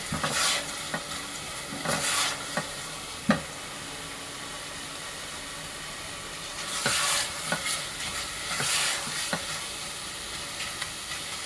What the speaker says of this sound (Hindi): अब इसमें चम्मच मसल चलाते रहेंगे।